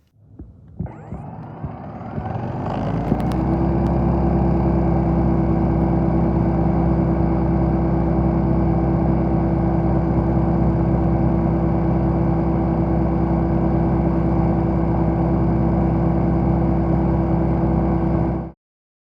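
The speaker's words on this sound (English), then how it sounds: "And if you're wondering what it sounds like, here's what it sounds like." A Skil 40V lithium cordless electric snow blower, model SB2001C-10, starts up with a rising whine, then runs at a loud, steady drone for about fifteen seconds before cutting off abruptly.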